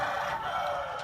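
A Shamo Aseel gamecock crows in the Philippines, one sustained, strained call held loud and near for about a second, with no talk.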